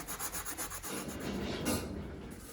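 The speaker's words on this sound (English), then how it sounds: "I remove the material from inside the grooves and just sand it out" Sandpaper rubs close and quietly inside carved grooves of a polystyrene sculpture, first in quick rhythmic back-and-forth strokes, then a steadier continuous scrub.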